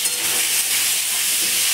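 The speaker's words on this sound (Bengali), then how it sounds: "লাল লাল করে নুন হলুদ দিয়ে আলু ভেজে নেবো।" Potatoes fry in hot oil with salt and turmeric in a kadai, giving a steady, close, even hiss and sizzle with no voices.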